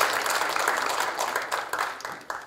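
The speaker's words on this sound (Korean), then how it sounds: "다시 한번 박수 부탁드립니다" An audience applauds warmly at a Korea University ceremony marking the 120th anniversary of Bang Jeong-hwan's birth, a dense wash of clapping from many hands filling the room steadily before tapering slightly.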